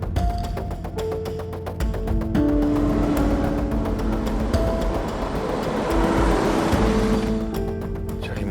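A car driving close by in an Indonesian drama scene, a steady engine and road rumble that swells in the middle, mixed with music.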